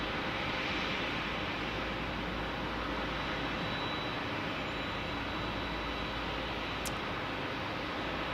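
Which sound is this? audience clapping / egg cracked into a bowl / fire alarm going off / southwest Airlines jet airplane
southwest Airlines jet airplane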